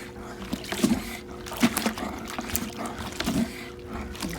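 Sloshing, gurgling water from a plunger washer being worked up and down through dirty laundry in a bucket, with a few soft breathy surges at an uneven rhythm, close up and fairly quiet.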